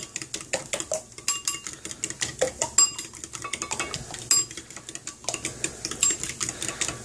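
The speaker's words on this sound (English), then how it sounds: "whisking the eggs. Mixing them real good." Eggs and milk being whisked briskly in a bowl for scrambled eggs, a rapid, steady run of close clinking and tapping strokes that continues without a break, with no voices.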